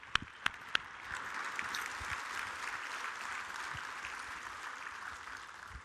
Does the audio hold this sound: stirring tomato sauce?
no